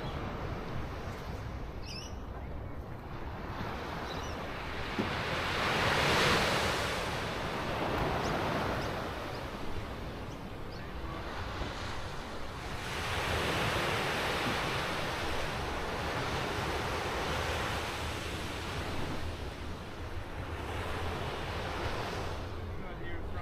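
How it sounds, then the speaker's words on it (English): Gentle waves on a calm morning sea at Dee Why beach, Sydney, wash in as soft, slow surges of surf, steady and moderately close, with wind buffeting the microphone. "The sea is very calm this morning."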